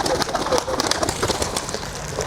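Racing pigeons coo in soft, repeated throaty calls, close and continuous, with some fluttering and background rustle.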